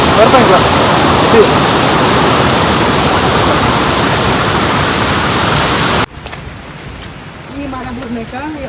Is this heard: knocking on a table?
no